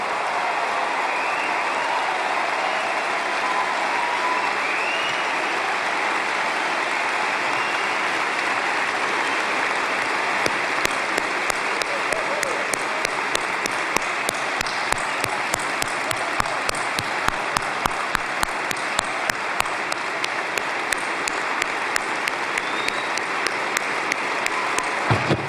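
A large convention audience of about 13,000 rises and applauds the United States representatives; steady crowd clapping grows into a loud, dense ovation with sharp individual claps standing out in the second half, no voices.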